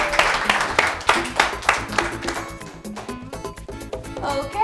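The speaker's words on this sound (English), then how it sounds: "Let's give her another round of applause." A studio audience claps for a young spelling champion on a children's quiz show, a burst of scattered clapping up front that fades as a bright musical jingle takes over.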